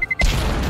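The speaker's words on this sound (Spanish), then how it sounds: "la explosión no me convence todavía" A short beeping tone cuts off into a sudden deep boom that rumbles on loudly, a grenade explosion in Counter-Strike 2.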